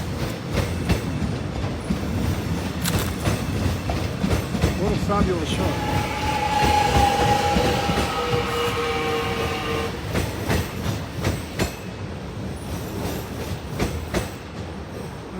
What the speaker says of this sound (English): Let's look at the trains.